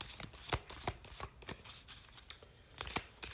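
Cards from a moon oracle deck are shuffled by hand in a quiet room, giving soft, irregular riffling slaps and flicks close by.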